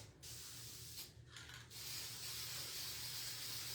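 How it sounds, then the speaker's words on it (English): A can of Mod Podge matte spray sealer hisses in short bursts, then one long continuous spray, close and fairly quiet with no voices. "So I'm going to take the Mod Podge spray. Matte."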